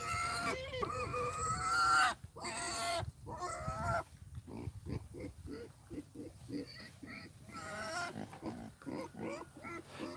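Pigs in a farm stall give a run of rapid, close grunts and snorts that are fairly loud and steady, with chickens faintly in the background and people talking at the start.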